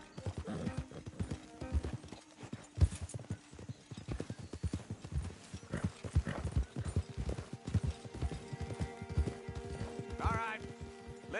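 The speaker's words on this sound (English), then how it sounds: "Don't want the horses clopping around outside the window." Horses' hooves clop on the ground in Red Dead Redemption 2, a dense run of sharp, close hoofbeats throughout, with a horse's whinny and a voice speaking over them.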